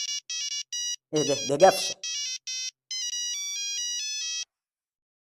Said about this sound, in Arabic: مش عارف مين اللي بيرن عليا دلوقتي ده